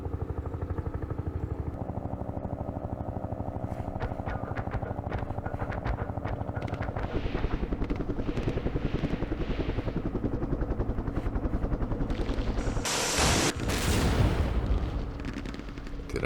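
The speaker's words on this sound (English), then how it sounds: "I'm going to bring my helicopters in." Helicopters arriving in the wargame Campaign Series Vietnam: a loud, sustained rotor-and-engine roar with rumbling blasts, swelling toward a harsh burst near the end.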